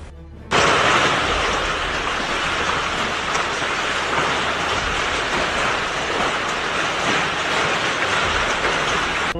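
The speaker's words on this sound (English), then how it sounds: "Saudi Arabia experienced unusual and extreme weather conditions, marked by heavy rains, hail, snowfall, and subsequent flooding in several regions." Heavy rain with hail pounding down during an unusual storm in the Saudi Arabian desert, a loud dense roar that starts abruptly and holds steady throughout, with no voices.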